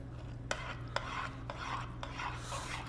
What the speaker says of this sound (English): So now we're gonna mix